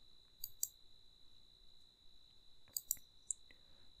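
A few quiet mouse clicks, two close pairs and a single click, sounding alone against a steady faint electronic whine.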